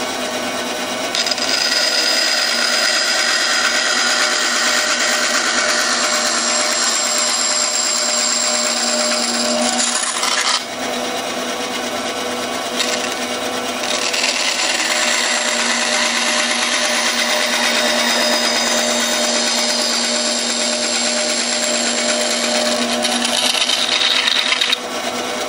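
A woodworking band saw cuts wood in a steady, loud, continuous whine, with brief dips in pitch and level partway through; no one speaks.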